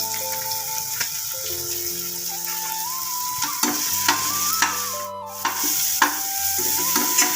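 Sauteing a vermicelli kichadi base with turmeric in a pan gives a steady sizzle with spoon stirring and scraping clinks, close and continuous, under background music tones.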